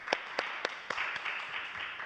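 Scattered claps from a seminar audience greeting a KAIST doctoral researcher as he comes up to speak, a handful of sharp separate hand claps at a steady pace over a faint room hiss, thin rather than full applause.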